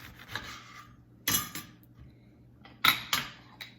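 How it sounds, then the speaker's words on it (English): A knife cutting a lemon in half on a kitchen board, heard as a few close, crisp knocks and scrapes against the board in a quiet kitchen. "Now I'll cut the lemon in half."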